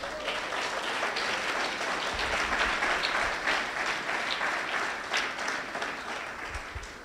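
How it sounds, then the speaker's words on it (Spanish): A church congregation applauds loudly and steadily for the full stretch, a dense unbroken wash of clapping with no voices rising above it. "Denle un fuerte aplauso al Señor"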